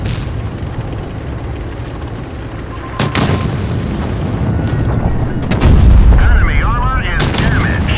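Tank cannon shots in World of Tanks Blitz, two sharp, loud booming blasts a few seconds apart, each with a heavy low rumble, over constant game noise and mechanical whirring, with a voice speaking briefly.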